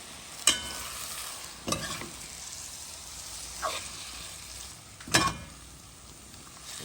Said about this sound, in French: Mélange un peu comme ça pour me laisser cuire doucement